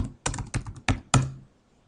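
Several quick keystrokes on a computer keyboard enter a search term, a handful of close, crisp clicks in irregular bursts followed by a brief pause and silence.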